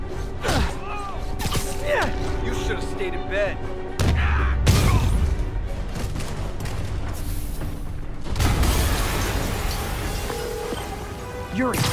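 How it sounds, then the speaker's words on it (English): An explosion in the Marvel's Spider-Man video game on PS4 Pro lands as deep booming bursts, one sudden and loud midway and another later, over layered game sounds and character voices. "an explosion just... I saw it"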